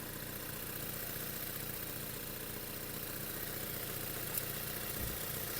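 A Volkswagen Touran's 1.4 TSI car engine idles steadily at low volume, a smooth even hum with a faint click near the end.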